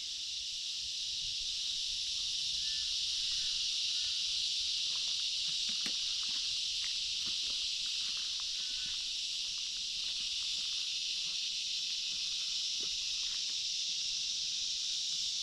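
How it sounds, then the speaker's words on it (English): Cicadas in the Australian bush at Hell Fire Pass, a loud, steady, high-pitched droning buzz that fills the whole stretch, with faint footsteps and rustling underneath. "The cicadas."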